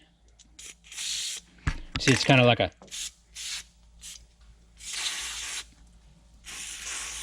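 A few short hissing bursts of dry lubricant spray on an ATV shock body, close by, broken up by brief talk, with a quick rubbing sound in the middle.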